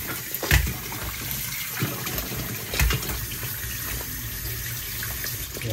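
Tap water runs in a kitchen sink as chicken feet are rinsed, with a steady splashing rush and a few louder thumps and sloshes from handling.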